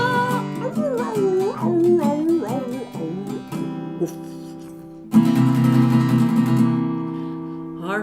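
A dog howls and whimpers in long, wavering cries, loud and close, breaking off for a moment before a second sustained howl.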